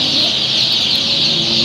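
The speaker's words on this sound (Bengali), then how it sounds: "এই যে আমরা এই যে ব্রয়লারের বাচ্চা ছাড়তেছি" At a hatchery, a mass of broiler chicks is released, producing a loud, dense, continuous chorus of high-pitched peeping close by.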